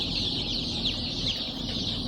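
Many incubator-hatched chicks cheeping continuously, a dense chorus of high peeps close by over a low steady background hum.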